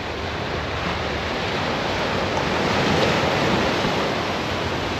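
Steady broadband wash of surf breaking on a beach on the Isle of Wight, with continuous rolling waves and some wind rumble on the microphone, no voices.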